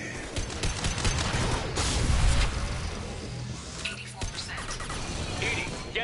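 Starship weapons from the Mass Effect 2 video game fire in a dense, continuous volley of blasts and crashes, loud and sustained, with voices talking over the barrage.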